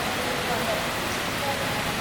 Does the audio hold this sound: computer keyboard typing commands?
no